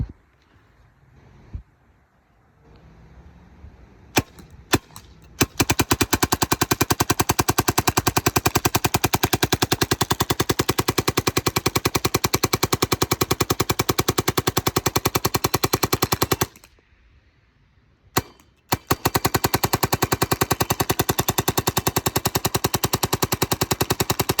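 Dye DLS paintball marker firing on full auto, with a few single pops before a long rapid stream of shots, a short break, then another sustained burst, loud and close.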